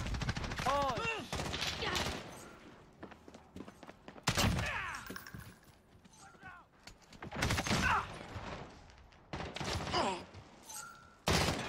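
Gunfire in the video game Warzone, several bursts of rapid shots spread across the clip, loud and close, with talking between the volleys.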